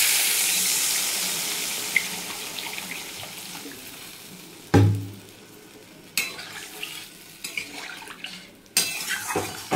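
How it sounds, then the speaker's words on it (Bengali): Water pours into a pot of thin fish curry, starting as a strong rushing stream that fades, then gives way to bubbling, sizzling and a few sharp clanks of the pot and spoon. "জল দিয়ে দিচ্ছি"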